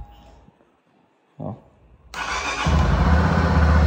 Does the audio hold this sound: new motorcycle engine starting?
yes